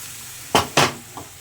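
Boiled moong dal goes into a hot pan of spices for a fish-head dal, two short loud splashing sizzles in quick succession, then a faint tap.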